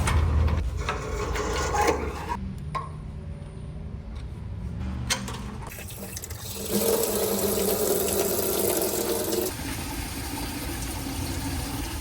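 Water gushing and splashing out of a busted car radiator during a build project, a steady rushing flow that shifts in intensity, with some mechanical rattles and bumps mixed in, close by.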